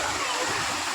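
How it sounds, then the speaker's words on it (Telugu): Waterfall at NTR Gardens, a dense continuous rush of falling water filling the whole short moment, loud and close. "చూసుకోవచ్చు వాటర్ ఫాల్స్."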